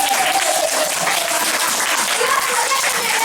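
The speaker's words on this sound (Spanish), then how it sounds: "¡Aplauso!" Schoolchildren in a classroom clap together in a loud, dense burst that holds steady throughout, with excited young voices calling out over the applause.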